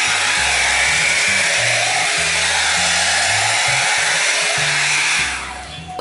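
A Philips air straightener runs on its thermoprotect setting with a steady, close, loud blowing whir that shifts slightly as it moves through hair, then drops away near the end, with no talk.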